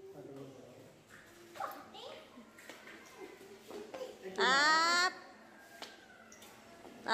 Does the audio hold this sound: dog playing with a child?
yes